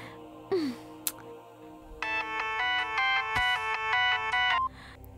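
A mobile phone ringtone in a Hindi dubbed movie plays loud and close as a bright repeating electronic melody in quick pulses for about three seconds, after a short rising tone and a click.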